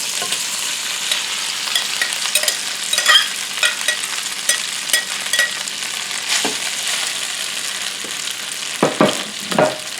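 Leftover spaghetti tossed into hot butter in a pan over high heat, crackling and sizzling steadily while a utensil scrapes and stirs, with louder clacks near the end.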